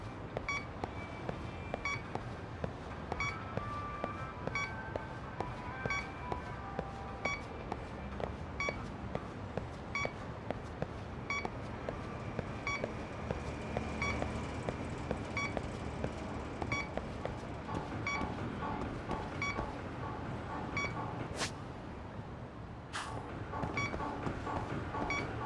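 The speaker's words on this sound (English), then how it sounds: "sorry if you don't like the beep noises" A drone frequency tracker in the Lost Judgment video game beeps in a steady, rapid series of short electronic tones, running continuously over a busy game background for the whole stretch.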